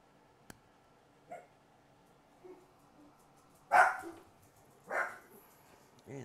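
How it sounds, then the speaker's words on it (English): A dog gives a few short, separate barks and yips, fairly faint and spaced apart against an otherwise quiet room, with no talking. "And that's my dog's opinion."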